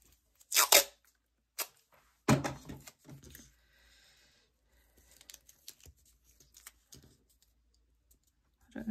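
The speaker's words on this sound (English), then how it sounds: "Yeah, I think we need to tape that." Tape being torn off for a journal page: a few sharp ripping tears close by, separated by quiet gaps and softer rustling handling sounds, with no talk.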